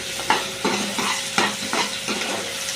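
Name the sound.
garlic and green chilli crackling while frying in a pan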